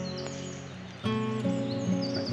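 Birds chirp and sing in a cool, shady grove of lime trees in a Spanish valley, with several overlapping calls that grow fuller and louder partway through, and no talk.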